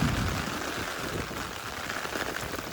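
Rain falls steadily on a weekend in Japan, a dense, even hiss of drops on surfaces, loud and close at first and easing slightly, with no voices.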